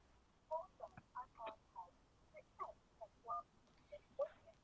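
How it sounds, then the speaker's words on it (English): A telephone ringtone plays as a quick string of short chirping electronic tones in an uneven melodic pattern, fairly faint with no talk. "I'm going to take this phone call."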